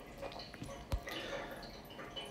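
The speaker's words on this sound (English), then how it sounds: "the water noise that is there in the background is just cleaning up that particular system" Water trickles and drips inside a central heating system as it is flushed and cleaned. The sound is faint and distant, with scattered soft drips and one sharper knock in an otherwise quiet background.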